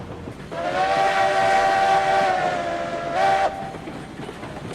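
A locomotive in the RailRoads Online railroad game runs along the main line, its steady rumble carried under a long, loud whistle blast that breaks off and sounds again briefly before fading.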